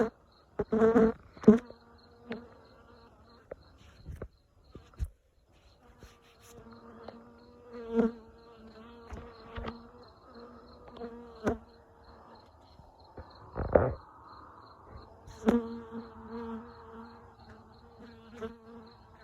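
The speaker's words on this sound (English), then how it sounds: "You're actually a bee, man." A bee buzzes close by at night outdoors, its droning hum rising and fading in irregular bursts as it flies around, with soft night insects chirping steadily beneath.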